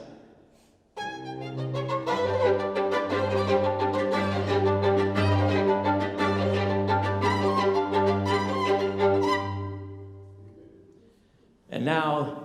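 Bowed strings in Vivaldi's "Winter" concerto play sustained, grinding chords with scratchy, crackling textures, mimicking ice splitting, then stop; a brief voice follows at the end.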